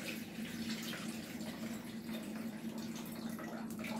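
Rinse water for jasmine rice is poured off from a pot, giving a steady, soft splashing stream that runs for several seconds, close and fairly quiet.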